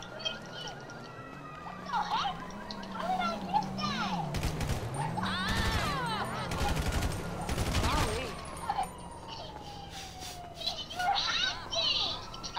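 Rapid bursts of gunfire and explosions in GTA V, with sirens wailing and crashes layered underneath as players speak over the chaotic, loud shootout.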